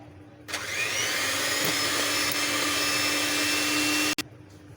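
An electric hand beater whips eggs with powdered sugar for a pink velvet cake batter, a steady, loud motor whine that runs for about four seconds on its own before cutting off abruptly.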